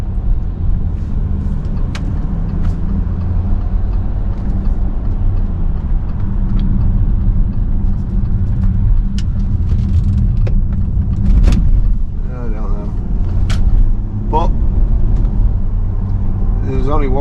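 A 2014 Audi Q7 3.0 TDI V6 quattro driven fast, heard from inside as a steady low engine and road rumble with occasional clicks and knocks, loud and continuous throughout.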